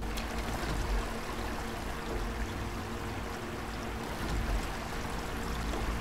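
Steady flowing water in the video game Amid Evil, a continuous rushing stream at moderate volume with no other sounds over it.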